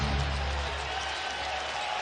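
Basketball arena crowd on its feet during an NCAA game, Michigan State against Texas in Austin: a steady, dense roar of cheering and clapping holds at an even level throughout, with no single voice standing out.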